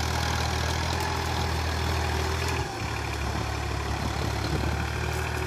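A Mahindra 265 DI tractor ploughing dry land in fourth gear rumbles in a steady, low diesel drone with a brief dip midway, heard continuously and fairly close, with no voices.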